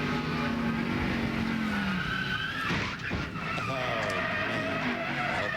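A 2000 NASCAR Busch Series race car, Jason Leffler's, skids loose and slams into the wall, tires squealing under loud engine roar with a brief impact crunch, while commentators talk over it.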